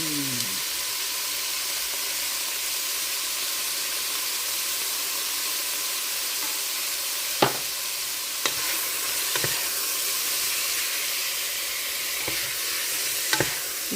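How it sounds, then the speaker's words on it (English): Cumin and spices sizzling steadily in a hot pan for green chili, a continuous bright hiss throughout with a few sharp clicks of utensil taps near the end. "If you cook up the spices a little bit, it helps with the flavor."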